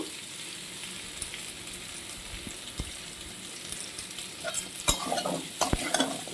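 Potatoes and papaya fry in a pan under a steady low sizzle, with occasional scrapes and clinks of stirring growing more frequent toward the end, close and quiet.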